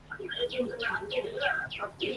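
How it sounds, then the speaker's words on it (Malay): Small birds chirping and tweeting in a rapid series of bright calls during an online class session, fairly close and clear, with faint background hum. "Oh, burung-burung berkicauan ni."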